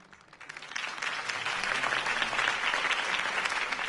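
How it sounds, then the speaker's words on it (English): Applause from a large crowd swells up from a quieter start into sustained, dense clapping that keeps going steadily to the end. "could have heard that applause"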